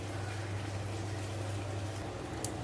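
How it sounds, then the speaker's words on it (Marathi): Fresh spinach (palak) leaves being rinsed by hand in a vessel of water for paratha, a steady low sloshing and churning of water that runs continuously throughout, with a brief small splash near the end. "आता याला स्वच्छ धुवून घेते अजून दोन ते तीन पाण्यामध्ये"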